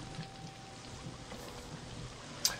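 Steady rain patters evenly in the background in the video game Memories Never Die, a soft constant hiss with one brief sharper drop near the end.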